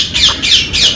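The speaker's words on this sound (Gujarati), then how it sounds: "આફ્રિકન ગ્રે પેરોટ અહીંયા બેઠો છે અહીંયા." Parrots in a zoo aviary, including an African grey, let out three loud, harsh squawks in quick succession, close and clear with no talking.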